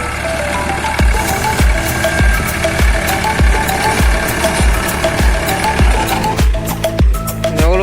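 A New Holland tractor running a cutter on a wheat farm gives a loud, regular knocking thud about every half second over a continuous engine rumble, close by and with no talking.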